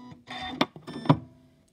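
Two crisp snips of scissors cutting sewing threads at a machine, close and quiet, with a faint mechanical whir before each cut.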